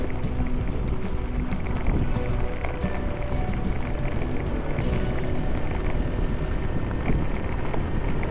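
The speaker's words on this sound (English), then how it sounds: "Wow! I feel the wind today. That's a good thing. There's a lot of wind." Strong wind buffets the microphone on a motorcycle ride near Natividad, Pangasinan, a steady roaring rush with no pauses, loud and close throughout, with no voices heard.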